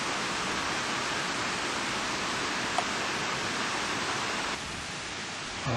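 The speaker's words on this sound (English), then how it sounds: "And the sound of the falls is pretty soothing." Steady roar of waterfalls along a mill site on a Labor Day bike ride, a dense broadband rush filling the whole stretch, constant and close with only a slight drop in level near the end.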